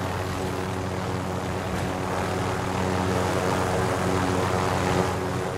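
A helicopter in Call of Duty's Plunder mode gives off a steady, continuous engine and rotor drone that stays at an even loudness throughout, with no voices over it.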